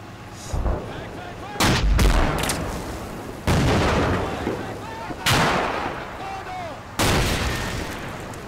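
Infantry gunfire in the Combat Mission war game comes as several sharp, loud bursts of rifle and heavy weapon fire spaced a second or two apart, each reports ringing out over a low rumbling battlefield background.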